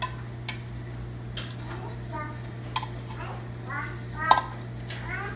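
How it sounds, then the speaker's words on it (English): A whisk clicks and scrapes against a pot as a sauce thickens for a crock pot meal, soft scattered metallic taps over a steady hum, with people talking nearby. "Whisk it around. Thicken up the sauce."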